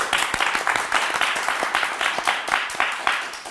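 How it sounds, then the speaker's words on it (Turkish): Studio audience applause at a television game show, a steady dense wash of clapping from many hands that holds for the whole stretch. "Hak ettiği alkışı duysun her ikisi"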